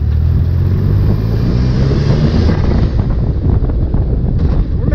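A turbocharged Mitsubishi 3A92 three-cylinder dune buggy engine with a Borg K03 turbo roars loud and close under heavy wind buffeting, its deep rumble steady throughout, with a short rising whoosh near the end.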